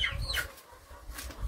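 A hen clucking on a small rural farm, a few close, loud squawking calls with some rustling between them, heard on its own.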